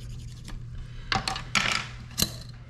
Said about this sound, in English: Always use your little plastic burnishing tool.